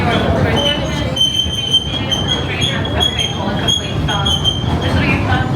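Disneyland Railroad train slowing into New Orleans Square Station, with steady rolling rumble and repeated high metallic wheel squeals ringing over the car, close and continuous throughout.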